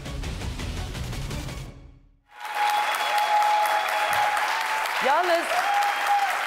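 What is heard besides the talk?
studio audience applause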